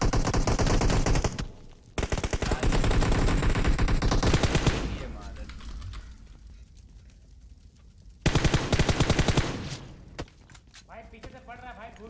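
Rapid automatic gunfire bursts in PUBG Mobile crackle loud and close, broken by short pauses, with thuds and a final volley. Players talk over the shooting.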